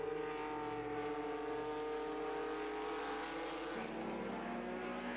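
Historic race cars circling at the Le Mans Classic, a sustained engine drone with shifting pitch as several cars pass, steady and fairly loud at a distance with no talk.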